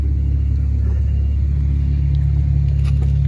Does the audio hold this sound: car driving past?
yes